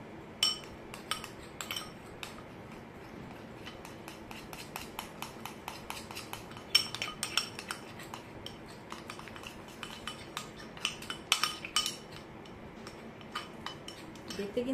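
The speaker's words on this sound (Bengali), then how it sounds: "খুব ভালো করে কিন্তু মিক্স করে নেব।" A spoon stirs a homemade face pack of coffee, cocoa powder, aloe vera gel and sour yogurt in a small bowl, giving steady close scraping and clinking taps against the bowl's side throughout.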